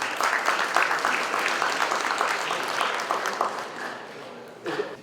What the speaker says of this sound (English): that deserves the true round of applause and appreciation to the First Nations community